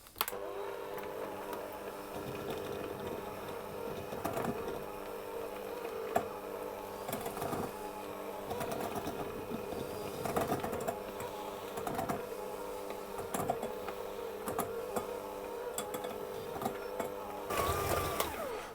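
An electric mixer creams sugar and butter for baked hiker bars, giving a continuous low motor drone with faint clicking and rattling over nearly twenty seconds, fairly quiet and steady.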